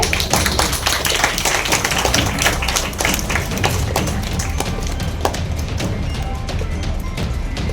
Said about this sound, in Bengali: সকলে একটু হাততালি দিয়ে সহযোগিতা করবে